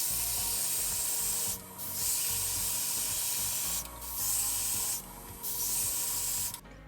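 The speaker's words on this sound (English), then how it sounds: "I just held the airbrush farther away than I normally would to get a nice misty coat on there" Airbrush laying a light, misty coat of paint onto an MG Gouf Custom model kit, held farther back than usual: a steady close hiss broken by three short pauses, with no voices.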